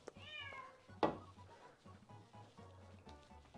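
A cat meows near a home baking stream, making a rising call at the start and a sharp thump or knock around the one-second mark. A low hum and some faint background noises run underneath.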